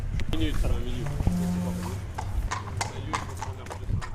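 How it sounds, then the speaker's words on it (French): Stallion arriving at a stud farm parade, its hooves clip-clopping steadily and close, with a whinny and a commentator talking over the sound. "Le dernier étalon arrive."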